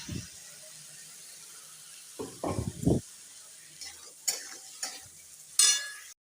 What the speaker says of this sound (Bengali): মশলাটা এবার আমি ভালোভাবে কষে নেব